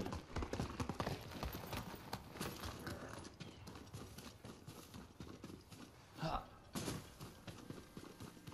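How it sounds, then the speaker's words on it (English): Horse hooves in the video game Ghost of Tsushima clop in a quick, uneven rhythm, with a voice speaking over them and a short whinny partway through. "You're a good horse, Nobu."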